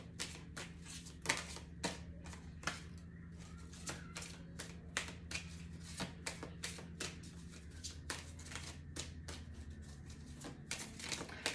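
Oracle cards being shuffled by hand, a rapid series of crisp riffling and slapping bursts repeating steadily, close and quiet, with no voices.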